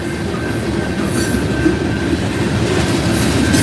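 A Union Pacific freight train rolls steadily past at close range, a continuous loud rumble of wheels and railcars with a faint clickety-clack and a thin high wheel squeal running throughout, no voices.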